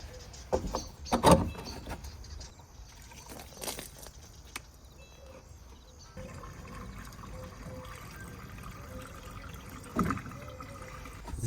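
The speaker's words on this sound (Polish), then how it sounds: "Więc wlewam z wiadra." Water poured from a bucket into a camper's tank, a steady trickling fill with a few louder splashes and knocks near the start, fairly quiet and close.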